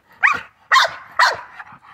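A couple of well-bred bulldogs bark three times in quick succession, loud and close, followed by a few softer trailing yips, with no talking over them.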